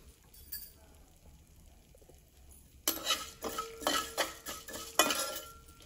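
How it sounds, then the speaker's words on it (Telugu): Cumin seeds frying in a spoonful of oil for a Telugu gongura pickle, a faint quiet start giving way at about three seconds to louder crackling sizzle with stirring scrapes and clinks of a spoon against the pan. "ఒక స్పూన్ జీలకర్ర వేశాను. వీటిని ఒక్కసారి నూనెలో మగ్గనివ్వాలండి"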